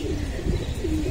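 Pigeons in a loft coo in low, throaty rolls that come close together and overlap in a steady murmur.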